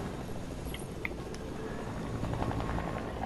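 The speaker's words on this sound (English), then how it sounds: "Why would you take my helicopter?" A video game helicopter whirs in a steady, low, continuous drone throughout, moderately quiet and unbroken.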